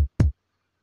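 Two short, punchy old-school kick drum hits from a sample pack, played dry without boost, the second slightly longer, with nothing else around them.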